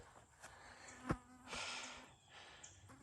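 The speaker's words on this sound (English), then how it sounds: "A lot of bugs today, lots of bugs." Insects buzz outdoors, the faint hums drifting nearer and farther, with one short sharp tap partway through and no one speaking.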